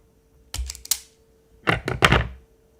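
Wire being snipped for a scratch-built 1:28 scale model winch, two quick clusters of sharp close clicks separated by a short pause, with no talking.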